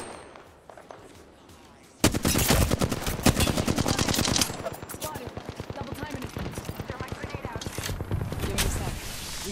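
Rapid automatic gunfire from a first-person shooter video game rattles in long, loud bursts after a quiet opening, with a player talking over the shooting.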